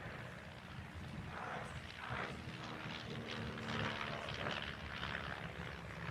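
A tailwheel propeller aircraft flies at the Farnborough International Airshow, its engine a steady, fairly distant drone that swells and fades a little across the pass, with no talking.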